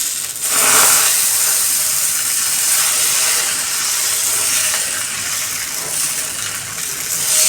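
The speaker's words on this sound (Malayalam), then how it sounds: "ഞാൻ ദോശ ചുട്ടുകൊണ്ടിരിക്കുന്നു" Dosa batter cooks on a hot oiled pan in a home kitchen, giving a steady, close hiss of steam and sizzle that stays fairly loud and even throughout, with no one talking.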